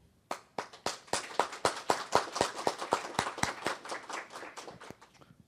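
Audience applause following a lecture on credit rights, leasing and fiduciary transfer: a burst of rhythmic, fairly sparse hand claps, steady and evenly spaced for several seconds, moderately loud in a hall with no talking.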